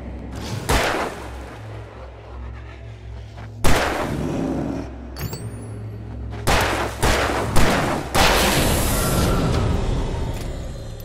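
Gunshots ring out in Alan Wake Remastered, several loud sharp blasts spaced a second or two apart with echoing tails, followed by a closer burst of rapid shots over a low rumbling background.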